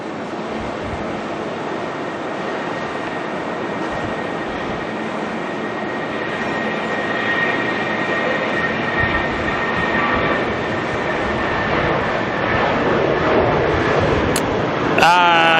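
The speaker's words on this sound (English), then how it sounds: "first departure is going to be this one here, heading to Queenstown" An Air New Zealand jet departing Auckland Airport for Queenstown drones steadily with a broad, rising engine roar that slowly swells over about fifteen seconds, heard from a distance.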